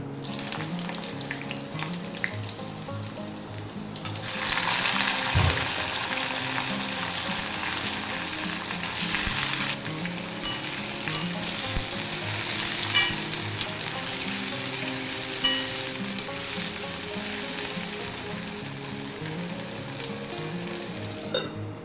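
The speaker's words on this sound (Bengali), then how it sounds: "ফোড়নটা ভাজা হয়ে গেছে, এবারে আলুটা দিয়ে দেবো।" Potatoes for a kohlrabi dish hit hot oil tempered with bay leaf and cumin, and a quiet crackle jumps into a loud, steady sizzle with occasional stirring clinks and no talk.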